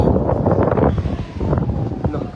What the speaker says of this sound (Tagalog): Ang hangin, ikusog ang hangin mga ma'am.